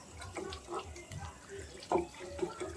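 Water runs and splashes into a cooking pan while fish jhuri is being prepared, a steady close pouring wash with small bubbling accents, under faint background noise.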